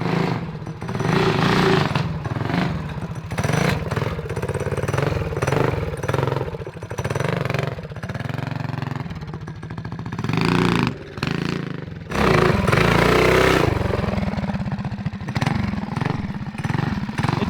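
A TrailMaster MB-200 mini bike's small engine revs hard and continuously on hot laps, with a buzzing, motorcycle-like drone that rises and falls as the bike is ridden, loud and close throughout.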